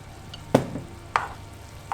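Tomato sauce goes into a hot frying pan for vegan tofu butter chicken, with a low sizzle under three sharp clanks and scrapes of a utensil against the pan, close and without talk.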